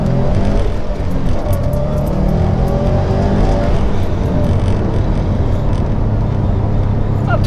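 A 2019 Subaru WRX STI runs in quiet mode, its engine giving a loud, steady, low rumble that carries on without a break.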